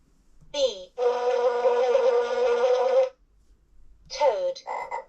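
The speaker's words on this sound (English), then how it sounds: "bee" A LeapFrog 100 Animals Book toy plays a bee sound, a loud, close buzzing drone about two seconds long, with brief electronic voice-like sounds from the toy before and after it.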